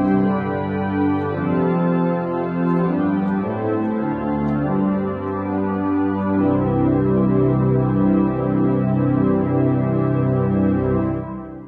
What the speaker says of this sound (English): Here's the sound of the organ's gambas.